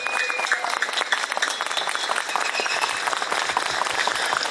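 An outdoor demonstration audience applauds aid volunteers, with dense, crackling clapping throughout and a little crowd noise mixed in.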